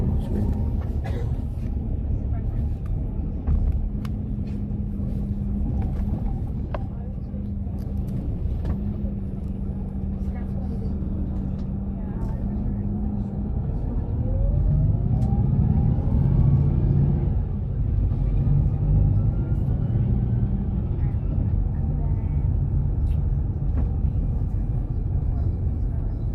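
Inside a bus heading to Wexford in Ireland, a low engine rumble drones steadily throughout and grows louder and heavier about halfway through, with faint cabin noises mixed in.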